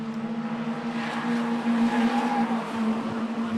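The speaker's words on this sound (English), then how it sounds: "Nice slide mid-corner through Palmer." A 1600cc race car slides mid-corner through Palmer at Snetterton during a 7 Race Series event, its engine droning steadily with a faint tyre squeal rising briefly amid continuous track noise.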